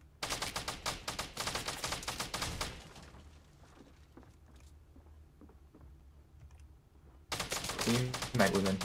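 Rapid bursts of gunfire shooting at stairs in the video game Fortnite, loud volleys at the start and again at the end with a quieter gap between, under chatter from players.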